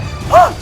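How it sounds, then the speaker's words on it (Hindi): A door being smashed and broken open during an angry confrontation: one brief, loud crashing thud rising over a low background murmur. "अरे दरवाजा टूट गया।"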